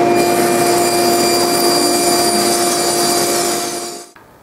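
A router cuts a long 3/8 inch groove along a wooden picture frame piece, a loud, steady high-pitched whine with a grinding cutting texture, held for about four seconds before spinning down abruptly.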